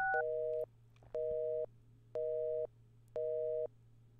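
Telephone busy signal from the point-and-click game Thimbleweed Park: four steady, clean electronic tone pulses of equal length with short gaps between them, heard alone over a faint low hum.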